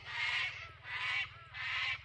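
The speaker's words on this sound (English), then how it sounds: "Hear the birds in the background." Birds call three times near a farm dam, loud harsh honking caws repeated in a steady rhythm over a low background hum.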